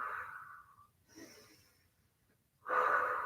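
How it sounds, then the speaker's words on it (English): Forceful breaths during a mat Pilates exercise, heard close and alone: a long audible exhale, a quieter breath in, then another strong breath out. "Now, when I reach those legs out, I'm exhaling"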